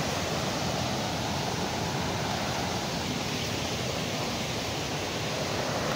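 Broadband rushing water from a waterfall close by along a dangerous forest trail, a steady loud wash that fills the whole clip with no break and no voices.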